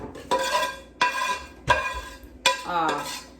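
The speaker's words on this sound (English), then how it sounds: "we can get the dishes done. While sister and I are working on dishes, Jackson's gonna work on vacuuming" Dishes and a pan being washed by hand, with four sharp, close clanks and scrapes spaced about a second apart over running clatter, and a short voice near the end.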